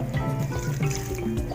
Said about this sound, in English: I will just put not so much water because yesterday it was raining